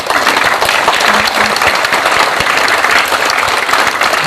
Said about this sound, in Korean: 박수로 환영시면 고맙겠습니다